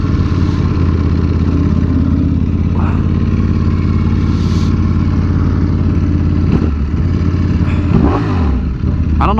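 A Ducati Panigale V4R with an SC Project exhaust runs on a dyno, a loud, close, steady engine drone with brief pitch shifts and crackles near the end.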